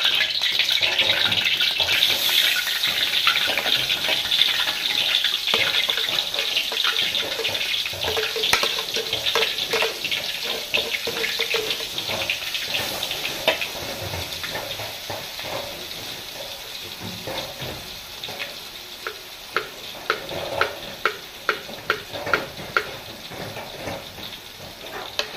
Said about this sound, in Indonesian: lalu kita mau masukkan ke dalam kualinya yang udah dikasih minyak